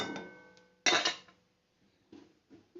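Shrimp being stirred in a metal pan on a gas stove and then covered with a lid, giving clattering utensil and pan scrapes in short bursts, one loud clank near the middle and softer knocks afterward, with no talking.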